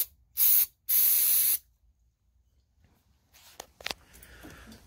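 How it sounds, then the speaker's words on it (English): Two short, sharp hisses of aerosol sprayed into the engine of a Wheel Horse GT14 garden tractor, close by, followed by quiet and a few faint clicks and rustles. "we're gonna spray in here and see if it'll fire."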